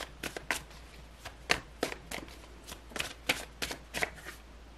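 Tarot cards shuffled by hand for a weekly reading, giving a steady series of crisp riffling bursts, close and fairly quiet, with no talking.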